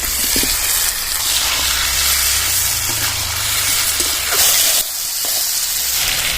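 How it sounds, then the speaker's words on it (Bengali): Bay leaf, dried red chili and whole cumin dropped into hot oil for tempering, a loud, close, steady hissing sizzle that crackles briefly before settling, with no talk. "তেজপাতা শুকনো লঙ্কা গোটা জিরে ফোড়নে দিয়ে দিলাম"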